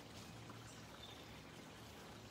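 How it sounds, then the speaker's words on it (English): A small brook trickles and flows into a little pond, a soft, continuous watery pouring sound, faint and steady with no voices. "How beautiful is the sound of running water. There's a little brook, little creek just running into this little pond over here"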